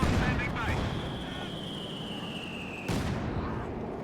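Anti-tank gun fire and a Katyusha rocket barrage in the Company of Heroes 2 video game, heard as a dense, continuous rumble of battle with a sharper burst of impacts partway through.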